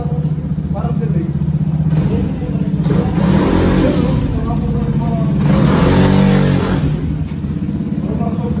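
A Honda ADV 160 scooter engine revs steadily and loudly, holding a high droning pitch close by, with speech mixed in over the engine noise.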